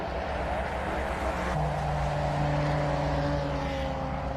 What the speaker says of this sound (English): Oh, listen to that Porsche.